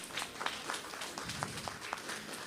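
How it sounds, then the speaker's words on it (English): Steady applause from a crowd at a primary schools' quiz event, continuous clapping with no pauses, moderately loud throughout. "Give them a round of applause."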